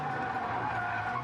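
Car driven hard through a race track chicane without lifting or braking, a loud sustained engine roar with tyre scrub heard up close for a brief moment.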